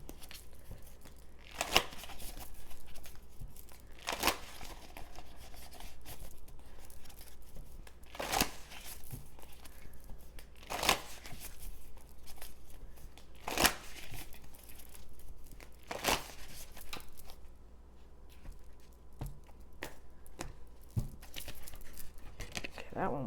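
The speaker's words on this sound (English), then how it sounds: "let's go ahead and pull some cards for advice for you for the month" Tarot cards shuffled by hand for a reading, with repeated crisp riffling bursts roughly every two to three seconds over a low steady hum, close and moderately loud, with no talking.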